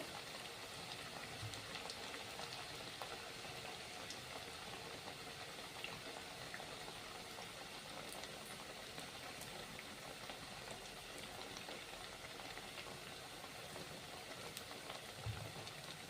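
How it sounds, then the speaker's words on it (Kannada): Rava and potato vadas deep-frying in hot oil in a home kitchen, giving a steady, dense crackle and hiss that runs unbroken at a moderate level with no voices. "ಹೈ ಫ್ಲೇಮ್ ಹಾಕಿ ಸ್ಲೋ ಫ್ಲೇಮ್ ಆಗಿಟ್ಟು ಹೊಂಬಣ್ಣ ಬರುವವರೆಗೂ ಕರ್ಕೋಬೇಕು ನೋಡ್ರಿ"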